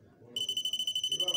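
Rapid, high-pitched beeping from a homemade electronic walking stick for the blind starts suddenly and pulses in a steady fast rhythm, close and clear, over faint low background voices and noise.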